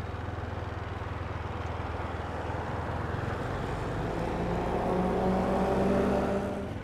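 Continuous motorbike engine drone while riding along a road in Thailand, a steady low rumble with rising intensity and wind noise, no talking.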